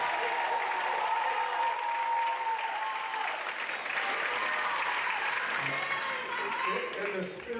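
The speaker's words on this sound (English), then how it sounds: "Let's give them a big round of applause" A graduation audience applauds the class of 2026, a full, steady roar of clapping from a large crowd that runs unbroken for several seconds, with some cheering and voices mixed in.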